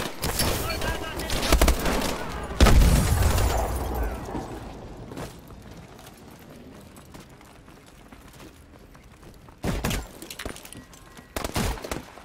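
Gunfire and a grenade blast in the video game Call of Duty Advanced Warfare: a heavy explosion with debris follows scattered shots, then sharp bursts of gunfire return later, with voices talking over the action.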